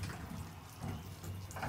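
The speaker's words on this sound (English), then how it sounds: "Now we're gonna get ready, water hose, and rinse this Kibou." Warm water, mixed from hot and cold, runs from a hose to rinse a cat during a bath, a steady, fairly soft rush of water with no talking.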